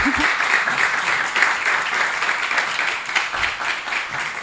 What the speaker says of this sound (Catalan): us demanaria un aplaudiment superfort per l'Anna i per la Aitana